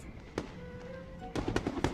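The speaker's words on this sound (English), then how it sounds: "That's definitely fireworks." Fireworks going off in broad daylight in the video game Infinity Nikki: one distant pop, then a quick cluster of sharp crackling bursts, moderately loud over quiet background tones.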